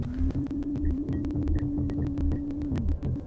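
A steady, eerie droning wail from the game Cry of Fear holds one pitch over a low, rhythmic throbbing pulse, then bends downward near the end.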